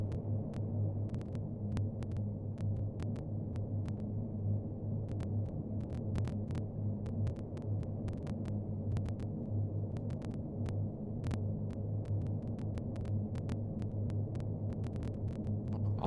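Short Stirling four-engine bomber in a flight simulator on approach to land, a steady loud droning engine hum with throbbing low pulsation running throughout, joined by scattered faint clicks.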